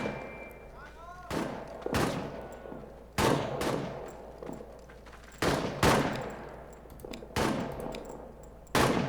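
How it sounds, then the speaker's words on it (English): Suppression gunfire in the World War I trench video game All Quiet in the Trenches, with sharp, loud shots repeating every second or so over a low rumble. "Suppression fire."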